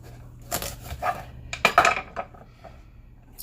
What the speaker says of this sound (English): So I am just going to cut it right down the middle of the whole entire pumpkin and open it up.